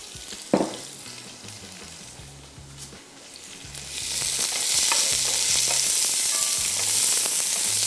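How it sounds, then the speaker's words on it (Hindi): Onion goes into hot cooking oil. It starts quietly with a stir and a sharp clatter, then swells into a loud, steady sizzle of frying that carries on to the end. No one speaks. "सबसे पहले इसको थोड़ा सा करेंगे फ्राई।"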